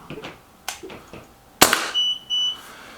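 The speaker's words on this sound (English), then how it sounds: "Okay, 5 shots over the chronograph for power." A single sharp crack from a Walther Rotex RM8 UC .177 air rifle fired over a chronograph, loud and close, followed by electronic beeps from the chronograph after some faint handling clicks.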